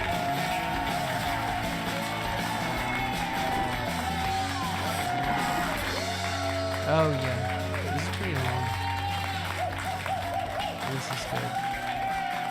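A TV studio audience claps and cheers in a continuous, dense wash of applause and whoops, while someone talks loudly over it.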